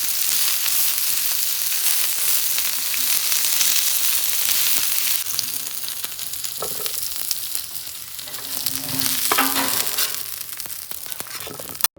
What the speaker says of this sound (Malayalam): നമ്മുടെ സവാളയും ക്യാപ്സിക്കും ഒക്കെ ഒന്ന് നന്നായിട്ട് ഒന്ന് ഗ്രില്ല് പോലെ ആക്കി എടുത്തിട്ടുണ്ട്, ഒന്ന് ഓയിലൊക്കെ ഇട്ട്